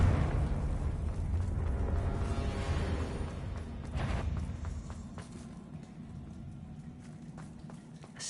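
Confringo fire spell blast in the Hogwarts Legacy video game: a broad rumbling explosion with dense crackling debris that slowly dies away into a low, fading roar.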